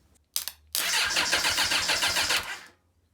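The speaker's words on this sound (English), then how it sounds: "let's double check whether or not the starter motor itself actually works" A Suzuki Bandit motorcycle's starter motor gives a short blip, then cranks loudly for about two seconds in a fast, rhythmic whir before cutting off to silence, close and with no talk.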